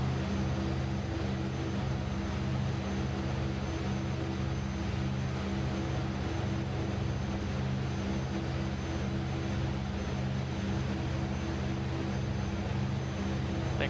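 Propeller plane engine in a flight simulator game, flying over the Bahamas: a steady low drone with constant hum, even and unbroken throughout, no talking.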